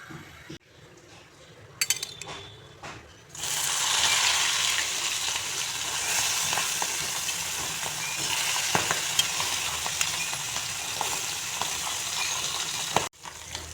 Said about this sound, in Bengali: মাছগুলোকে কড়া ভাজবো না।